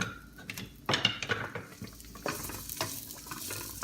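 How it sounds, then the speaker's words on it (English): Onions cooking in a pan for catfish kaldereta, a quiet sizzle broken by a few stirring scrapes and clinks, close up with no talk. "Put our onions. Give it a minute to cook it."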